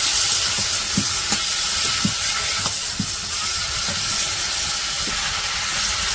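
Snakehead fish sizzles and hisses steadily in a hot pan as it is cooked down with tomato, broken by occasional clinks and scrapes of stirring, with no voices.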